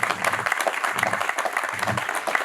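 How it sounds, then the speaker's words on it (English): Audience applause at an awards show, a brief burst of many people clapping, fairly dense and even, heard on its own without talk. "So a round of applause for Maguire's,"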